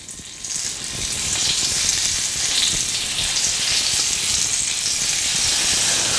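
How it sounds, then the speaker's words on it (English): Meatballs frying in a pan of hot bacon grease, about thirteen at once, giving a steady, loud, close sizzle with crackling spatter that runs without a break, no voices over it. "You can just hear the sizzle"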